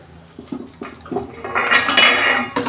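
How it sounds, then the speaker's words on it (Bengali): A metal lid clinks and rattles onto a cooking pot of kadai chicken, starting with several light taps and ending in a louder clattering settle, close by with no speech. "গ্যাসের ফ্লেমটা আস্তে করে আমি ঢাকা দিয়ে দিচ্ছি"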